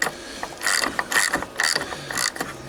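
Ratchet wrench backing bolts off a car during rear bumper removal on a Renault Kangoo, a close, loud run of rapid metallic clicking bursts repeating in quick strokes, with no talk.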